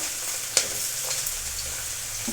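Cumin seeds spluttering in hot oil while making pulao: a steady, even sizzle with one sharp pop near the start and a few softer crackles.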